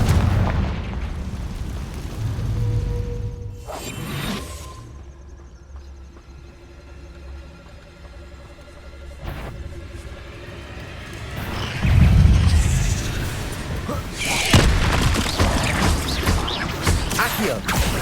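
Fiery spell blasts in the wizarding game Hogwarts Legacy: a sharp crack near four seconds, a lone thump near nine seconds, then heavy booming bursts after twelve seconds that roll into a loud crackling rumble over a low ambient drone.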